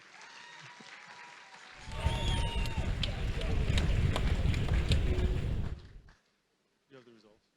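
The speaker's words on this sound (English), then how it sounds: "Please give them a big round of applause, please." A crowd at a Miss World Nigeria pageant breaks into loud, sustained applause for distinguished guests, swelling in after a quiet start and then cutting off abruptly, followed by brief faint speech.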